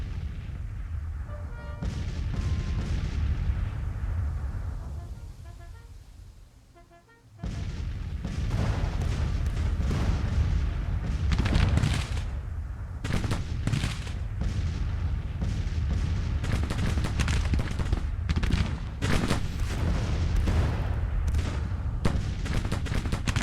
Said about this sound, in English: See if we can concentrate the gun's fire on him.